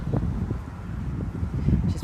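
Wind buffets an outdoor microphone with steady low rumbling gusts, the rumble swelling slightly near the end.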